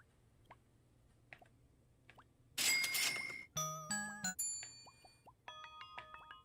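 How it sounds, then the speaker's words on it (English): Bell sound effects from the Dreams game editor: a burst of bright clanging, then a run of tuned chimes and tinkling dings in quick succession, each ringing out briefly, with soft plops and drips sprinkled before them. "These are the worst bells I've ever heard."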